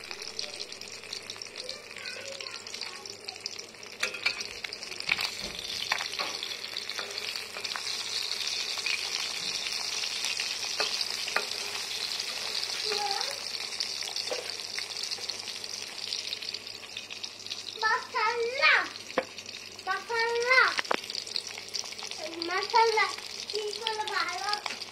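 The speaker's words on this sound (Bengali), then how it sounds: "মাছ ভাজা হচ্ছে।" Freshly bought Padma river fish, such as bele, baim, kajoli and puti, fry in a pan with a steady soft sizzle and hiss, while voices, including a child's, talk intermittently nearby.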